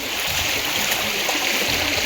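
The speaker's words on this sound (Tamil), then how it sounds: "ஆற்று தண்ணி போகுது மேலையிலேருந்து வர ஆறு வந்து இங்கேருந்து தான் போகுது" River water flows beneath a bridge in Kanyakumari district, India, a steady loud rushing and hissing that stays constant throughout with no voices.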